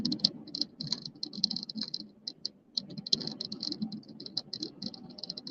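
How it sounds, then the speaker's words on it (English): Rain on a car during a commute, a steady dense patter of drops on the roof and windscreen with a low rumble of the moving vehicle underneath, fairly close and continuous. "Oh, you've got the rain."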